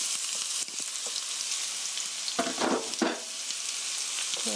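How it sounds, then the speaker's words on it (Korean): Onion and carrot stir-frying in a hot frying pan, a loud continuous sizzle close up, with a couple of brief bursts of tossing and spatula movement near the end. "이렇게 해서 볶아주세요. stir fry 3 minutes 3분 정도 볶아주세요."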